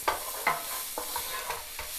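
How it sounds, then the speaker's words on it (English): Onions sauté in a pan with a soft, steady sizzle, broken by several distinct scraping stirs at regular intervals; quiet and close, with no voices. "So we are trying to saute the onions. Want to brown them just a little bit, not much."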